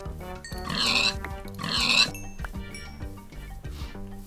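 Pigs oink in Minecraft, two loud grunting squeals in quick succession over a steady backdrop of in-game music tones, with the sounds fading after two seconds.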